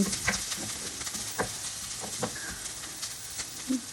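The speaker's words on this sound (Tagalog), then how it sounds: "Gisa lang natin. Gisa-gisa, gisa-gisa, sige lang." Ingredients for pancit canton sautéing in a pan, a steady sizzle with occasional clinks and scrapes of stirring, close and moderately loud, no talking.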